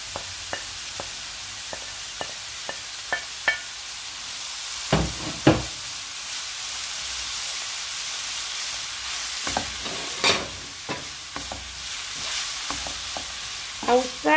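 Minced meat frying in a pan for Nigerian meat pie filling, a steady soft sizzle broken by repeated scraping and stirring strokes of a spoon against the pan, fairly close, with no talking.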